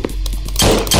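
Gunfire in the video game Mutants, a quick burst of sharp metallic shots ending in a dense, loud blast of noise, close and with no talk.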